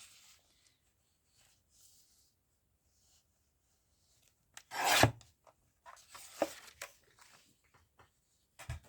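Paper being trimmed for a hinged journal page, heard as a few short rasping cuts and rubs near the middle and end, fairly faint and close, with quiet gaps between them and no talking.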